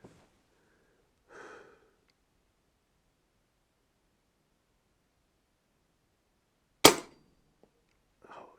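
A single sharp crack from a Brocock Bantam Sniper .25 caliber air rifle firing, loud and close against near silence, with faint breaths around it.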